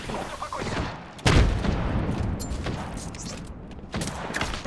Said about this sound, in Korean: 수류탄이다